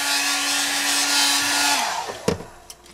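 Heat gun warming tape on a motorcycle seat during an FZR restoration, a loud steady blowing whine that cuts off, followed by a few handling clicks and knocks.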